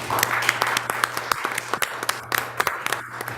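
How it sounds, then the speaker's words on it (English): Scattered applause at a school board meeting, a thin round of clapping from a small audience with distinct individual claps standing out over a low steady hum in the room. "how about a round of applause for Laura Palmer"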